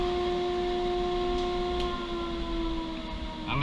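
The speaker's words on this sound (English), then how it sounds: "I'm going to turn the dust collector off so you can hear me." A workshop dust collector drones steadily at close range with a sustained tonal hum, then begins to wind down at the end.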